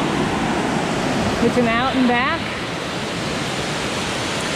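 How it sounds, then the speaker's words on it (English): Broad, steady rush of a big waterfall on Beaver Brook on Mount Moosilauke, loud and continuous throughout, with a person briefly speaking over it near the start. "there's going to be more waterfalls. This is the first big one."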